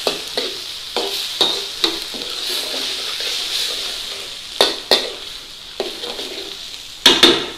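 Diced fresh tomatoes sizzle and fry in a hot pan, a steady close hiss broken by repeated sharp clicks and scrapes of a utensil stirring, with no talking.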